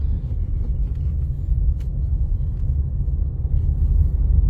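A manual-transmission car is driven during a driving lesson, giving a steady, loud, low rumble of engine and road noise heard from inside the cabin, with no talking.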